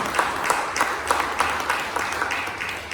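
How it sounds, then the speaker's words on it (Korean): Church congregation clapping together at a Sunday service, a steady rhythmic beat of hands roughly every third of a second, moderately near and continuous, with no talk over it. "우리 박수로, 우리 또 여기 모이면서 박수로 찬양합니다"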